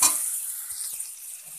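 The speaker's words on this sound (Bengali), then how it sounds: "এবার আমি 1 চামচ লবণ, 1/2 চামচ হলুদ দিয়ে দিলাম, দিয়ে আবারও একটু ভেজে নেব।" Raw mango pieces frying in a pan with salt and turmeric, a brief hissing sizzle that starts loud and then settles into a softer crackle.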